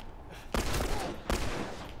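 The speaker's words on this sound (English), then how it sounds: "Going for headshots here, James." Gunfire in The Last of Us game combat: two sharp, loud bursts of shots about three-quarters of a second apart, each with a long noisy tail that fills the short stretch.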